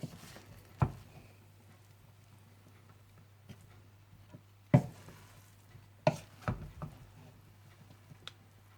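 Chickpea pulao is mixed in a pot and served onto a plate, giving a few sharp, isolated spoon clanks and scrapes over a quiet, faintly humming kitchen background.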